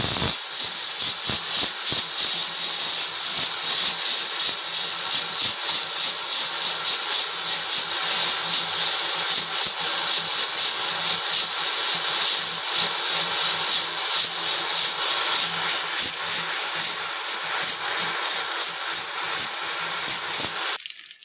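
A pressure cooker on a stove, cooking beef nihari, gives off a steady, loud, high steam hiss that runs unbroken for about twenty seconds before cutting off abruptly.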